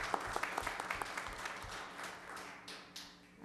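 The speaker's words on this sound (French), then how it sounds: "On peut lui donner une bonne main d'applaudissement." Applause at a council meeting: a moderate, fairly distant patter of hand clapping from a small gathering, with individual claps audible early on before it settles into a softer, even wash.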